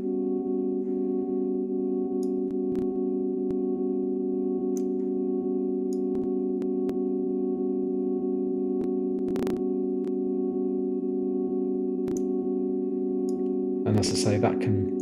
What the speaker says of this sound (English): So it's actually playing the sample backwards half the time now.